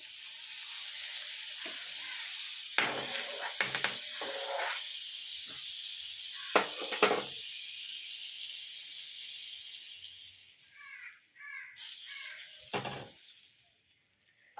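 Butter hits a hot pan for chicken stew and sizzles in a steady, loud hiss, broken by a few sharp clatters and stirring knocks, then the sizzle eases off near the end.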